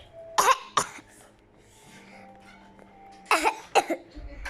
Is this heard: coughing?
yes